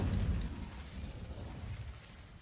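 Incendio fire spell cast in Hogwarts Legacy, a loud low whooshing burst at the start that rolls into a sustained rumbling roar and slowly fades over a couple of seconds, with no voices.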